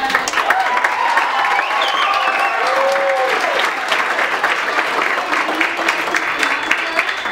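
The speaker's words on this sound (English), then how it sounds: "So please give your daughters a round of applause." An audience applauds and cheers continuously at a Girls Rock Roanoke event, many hands clapping in a dense, steady wash with scattered whoops and voices over it.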